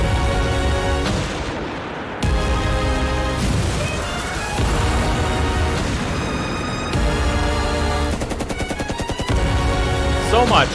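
Rapid bursts of gunfire and heavy booms crash through a loud, dense music track, with sharp cuts and stuttering rhythmic hits toward the end.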